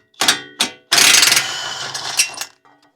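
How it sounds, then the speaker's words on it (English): A 32 mm socket loosens the front axle nut on a 2013-2019 Ford Escape, making close mechanical ratcheting. Two short bursts are followed by a longer grinding, whirring run that fades out. "I've got a 32 millimeter axle nut socket to remove the axle nut here"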